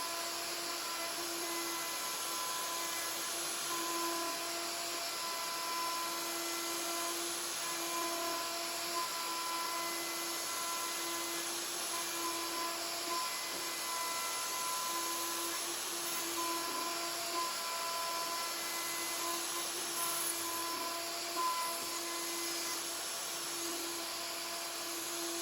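A power tool rebating an English oak and resin table for its legs, a continuous loud high-pitched whine with steady tonal drone throughout, no voices.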